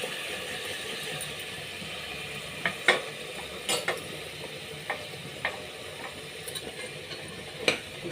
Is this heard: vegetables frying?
yes